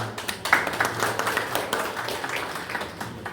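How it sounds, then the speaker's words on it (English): A round of applause from an audience at a Kenyan entertainment talk event, a moderate, steady patter of many hands clapping at mid distance, with no voices over it. "can we just do a round of applause for those guys?"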